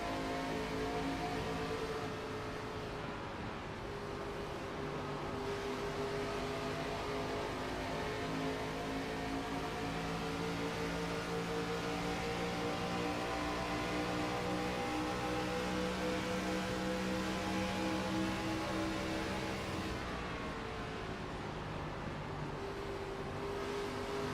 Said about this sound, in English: listen to the sounds of Indianapolis Motor Speedway in the middle of the pack